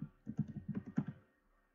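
Quick bursts of keystrokes on a computer keyboard while a command is entered, about a dozen close, light clicks in an uneven rhythm over roughly one second, then quiet.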